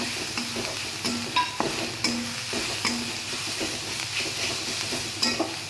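Ground green chili, ginger and garlic paste hits browned onions frying in oil, a steady loud sizzle with repeated spoon scrapes and stirring clatters in a rhythmic pattern.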